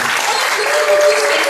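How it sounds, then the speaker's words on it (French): Audience at a 60 Seconds International Film Festival ceremony in Algeria applauds in a brief, dense burst of close, steady clapping. "On applaudit la Mia pour les gâteaux."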